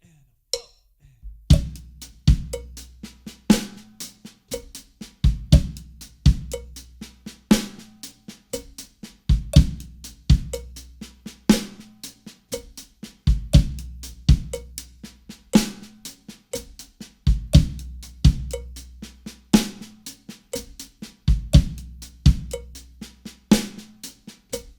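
Drum kit playing a slow halftime linear groove with hi-hat, ghosted snare notes, kicks and an accented snare on three, repeating steady patterns of crisp hits, close and loud with no talking.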